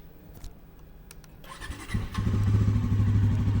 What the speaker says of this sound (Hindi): ये 373 सीसी का इंजन साउंड कैसा प्रोड्यूस करता है